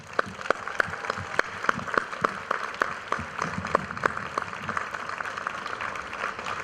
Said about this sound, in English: So please join me in giving them a big round of applause.